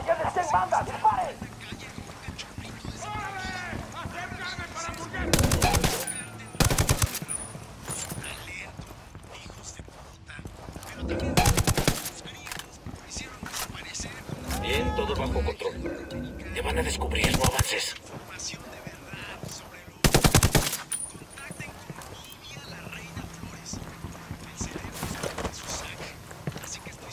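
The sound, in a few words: gunfire in video game Tom Clancy's Ghost Recon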